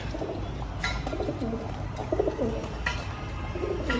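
Pigeons in a loft coo repeatedly in soft, low murmuring phrases, close by and steady over a constant background hum.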